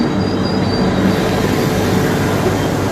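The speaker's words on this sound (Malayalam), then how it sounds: "തിരുപ്പട്ടൂർ റെയിൽവേ സ്റ്റേഷനിലെത്തിയേ." A steady, loud rolling rumble comes from the Uday double-decker express at Tirupattur railway station, continuous and close with no voices.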